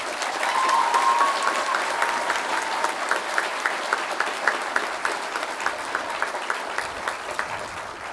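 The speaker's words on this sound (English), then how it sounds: "Will you all join me in a moment of applause for the faculty and staff of the campus?" A large commencement audience applauds campus faculty and staff, the clapping loud and dense and sustained for about eight seconds before easing slightly toward the end.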